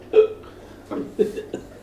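A person hiccups several times in quick succession, short sharp voiced catches spaced irregularly over a couple of seconds, close and fairly loud.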